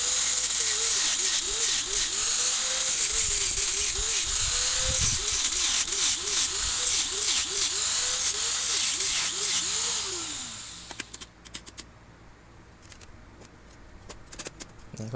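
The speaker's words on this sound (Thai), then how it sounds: "แทงอีกด้านหนึ่งกระทุงออกมานะครับ" A metal rod scrapes and pokes inside a cut-open, fiberglass-packed motorcycle exhaust pipe for a Honda Wave 110i, making a steady run of rasping, ratchety strokes up close that stop after about ten seconds, leaving quieter handling noise.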